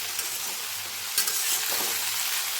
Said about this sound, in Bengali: এবার আমি একটু সময়ের জন্য ঢাকা দিয়ে সবজিগুলোকে সাঁতলে নেব।